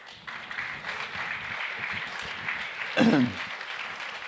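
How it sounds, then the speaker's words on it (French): A crowd applauds steadily at a press freedom debate at the Fête de l'Humanité 2021, a dense wash of clapping with a voice briefly calling out over it. "quelques petits applaudissements pour l'UMA"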